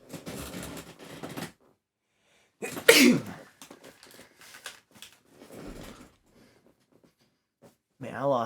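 A single loud sneeze bursts out close by, surrounded by quieter speech and breathy vocal sounds before and after.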